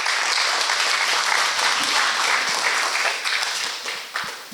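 Seminar audience on a proposed seaside baseball stadium breaking into dense, sustained applause for an incoming speaker, many hands clapping at once in a hall, tapering off toward the end.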